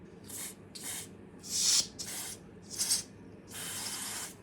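Isopropyl alcohol is sprayed onto hot melt glue on a circuit board in six short hissing bursts, the last one longer. The bursts are close and fairly quiet, with no talk.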